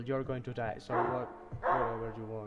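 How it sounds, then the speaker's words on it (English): A dog barks repeatedly in the zombie-survival video game Project Zomboid, a run of short yips and woofs heard under someone talking over the gameplay. "That's a dog barking."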